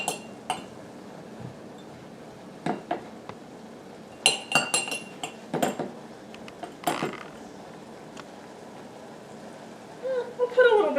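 Metal measuring spoons clink in a home kitchen as tablespoons of chili powder are measured out for taco seasoning. There are scattered light, close chinks and taps, some clustered together, with quiet gaps between them.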